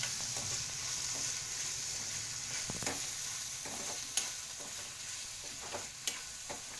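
Chili powder fries in a pan with a steady, even sizzle and a few soft stirring scrapes, close by and alone, with no voices.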